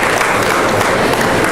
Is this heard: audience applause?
yes